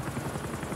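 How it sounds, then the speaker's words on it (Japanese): A return helicopter in the video game Metal Gear Online 3 gives a brief, steady rotor chop with rhythmic blade pulses and no voices. "これ帰りのヘリでございます"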